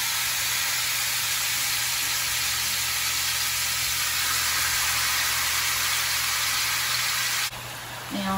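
Cajun jambalaya fries in a pot with a loud, continuous hissing sizzle that runs steadily without a break and eases slightly near the end.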